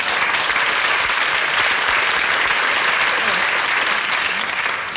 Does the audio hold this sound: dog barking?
no